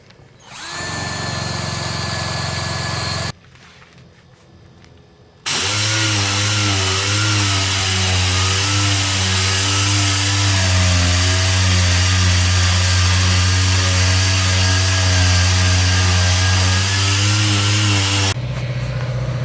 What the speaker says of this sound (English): Wire wheel, cordless drill.